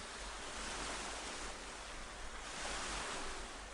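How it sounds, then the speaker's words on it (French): Ocean waves washing in a soft, continuous surf with gentle swells, faint and distant-sounding, with no voices. "Le vent, l'odeur de l'océan, le mouvement régulier des vagues."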